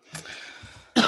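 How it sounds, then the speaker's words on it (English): Two brief, close coughs a moment apart, one short and light, the next a harsher throat-clearing burst. "We're both coughing at the same time."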